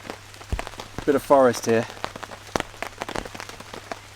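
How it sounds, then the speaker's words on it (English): Rain just beginning to fall in a dark forest, scattered drops pattering on leaves and ground in soft irregular taps while someone talks briefly over it. "you can hear it's just started to rain"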